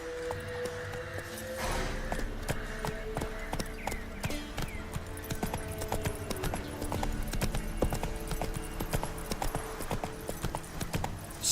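Roach, a horse in The Witcher 3, gallops with steady rapid hoofbeats that stay loud and close throughout, with a low game score running underneath.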